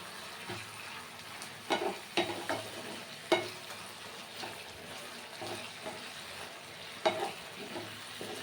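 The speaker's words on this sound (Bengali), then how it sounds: "মাছের তেলটা কিন্তু মোটামুটি ভাজা হয়েছে" Steady sizzling of fish fat frying in hot oil with salt and turmeric, with occasional sharp scrapes and clinks of stirring breaking through at irregular intervals.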